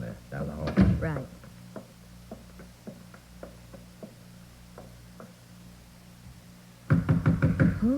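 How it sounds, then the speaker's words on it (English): Sharp knocks on a ground-floor apartment door in a radio detective drama, a series of about ten evenly spaced raps after a brief voice, followed by someone speaking again. "Oh, the way you knock gives me the shakes, Nick."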